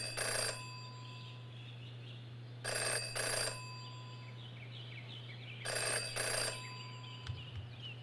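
Old-style telephone bell ringing in the Jenny LeClue detective adventure game, three bright rings in a repeating pattern with quiet gaps, over a steady low hum and faint background music.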